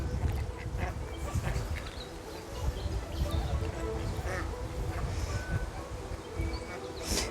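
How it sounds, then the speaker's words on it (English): Ducks quack repeatedly in a garden on a winter walk, the calls mid-distance and intermittent over steady outdoor background noise. "Oh, we've got visitors. Look. Hi, duckies."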